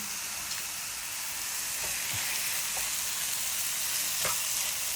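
Quinoa sizzles and crackles steadily in a hot pan, a constant bright hiss with faint scattered pops.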